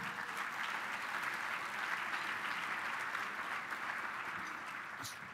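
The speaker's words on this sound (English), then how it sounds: "So one round of applause for the sponsors." A conference audience gives a steady round of applause that holds for several seconds at moderate distance, then begins to thin toward the end.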